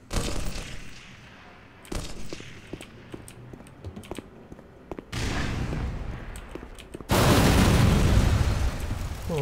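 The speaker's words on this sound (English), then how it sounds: "What's all the freaking explosions, man?" Explosions in the video game Black Mesa boom repeatedly amid rapid keyboard clatter. Blasts and bursts of gunfire come in waves and swell into a loud, sustained roar at the end.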